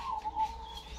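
A perkutut zebra dove calls close by, giving a few brief, soft, high notes against a quiet background.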